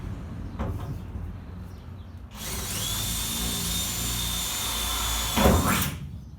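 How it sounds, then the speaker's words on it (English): A power drill bores through a van's double-skinned steel side panel, starting abruptly and whining steadily and loudly for about three seconds before a short louder surge as it breaks through, then stopping. "I'll be drilling holes through here and then using a jigsaw to cut the rest of it out"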